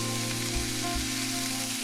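Sausage browning in a pan for a potato and sausage dish, a steady, even sizzle with a low hum beneath and a couple of faint soft knocks.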